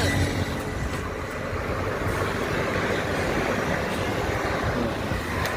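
A motorcycle engine runs steadily after an electric self-start at a village mechanic's workshop, a loud, continuous low rumble close by with no talk.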